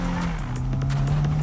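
A car drifting in the Need for Speed video game, with a sustained, steady tire squeal riding over a constant engine drone, close and loud throughout.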